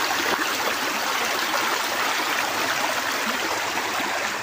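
A rural river flows with a steady, even rush of water, continuous and fairly close, with no voices over it.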